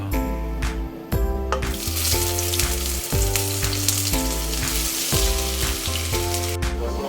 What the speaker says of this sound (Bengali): এখন আমি পেঁয়াজগুলাকে একটু করে ভেজে নিব যাতে করে কাঁচা গন্ধটা চলে যায়